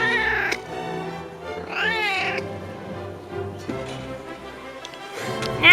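A cat meows while being petted indoors, with several harmonic mews rising and falling across the stretch amid faint room noise.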